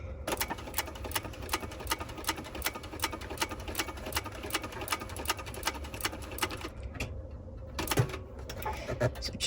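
Sewing machine stitching a Windsor Bag, a rapid steady run of needle clicks that pauses near the end, followed by a few single stitches.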